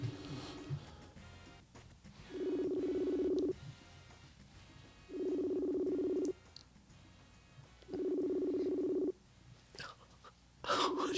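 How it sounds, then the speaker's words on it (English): A telephone call ringing back through the line, with three long, even ring tones spaced about two and a half seconds apart, moderately loud, and short murmurs and quiet noises between them. "It says it's ringing."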